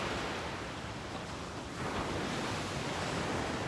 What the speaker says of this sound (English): It's windy, and I think I'd be complaining about the wind otherwise.